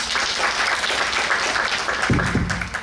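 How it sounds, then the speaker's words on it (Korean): Audience applause welcoming a guest speaker at a Korean history lecture, steady crowd clapping throughout, with a brief low thump near the end. "김창현 대한사랑 영남본부장님을 큰 박수로 모시겠습니다"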